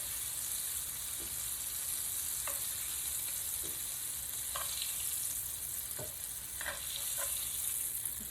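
Eggplant slices fry in hot oil as a loud, constant sizzle hiss, with occasional small pops and light clicks of utensils moving in the pan.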